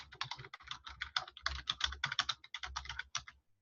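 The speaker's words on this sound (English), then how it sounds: "So when I erase this and just start typing my story," Rapid typing on a computer keyboard while writing in Microsoft Word, a dense run of close, crisp key clicks in an uneven rhythm for about three seconds, with no talk.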